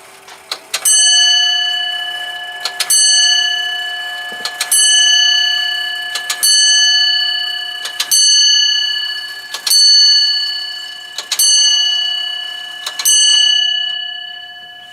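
An antique clock chiming in a large clock collection, a series of clear ringing bell strikes evenly spaced about every two seconds, each with a long ringing decay, close and loud in a quiet room.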